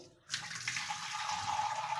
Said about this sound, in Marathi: माठामध्ये पाणी सोडून घेऊ